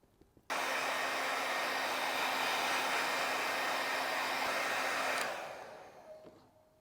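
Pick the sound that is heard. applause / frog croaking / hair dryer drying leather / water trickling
hair dryer drying leather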